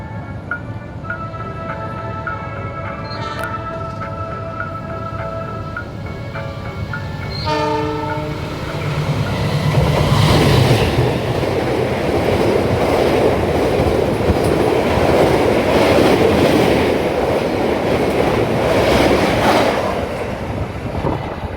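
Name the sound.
Sembrani train passing through Trisi station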